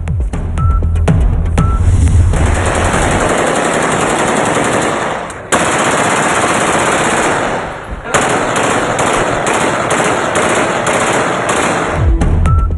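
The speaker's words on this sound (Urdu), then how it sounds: "حجرے میں رات بھر فائرنگ" Celebratory gunfire at a candidate's hujra in Peshawar rattles out in long, dense automatic bursts, loud and nearly continuous, breaking off briefly before resuming.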